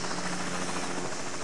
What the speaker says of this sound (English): Transforming to helicopter mode, Highbrow lifted into the air and flew low across the waves.